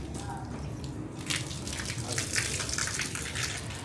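Running water splashes steadily over meat being washed, a dense continuous wash of spray and trickle throughout with slight swells in intensity.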